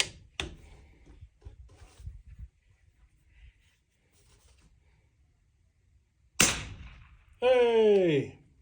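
Two sharp reports from a Bergara B14 .22lr rifle sound at a range, one near the start and one louder crack later, with a short whistling tone after the second; quiet faint talk in between.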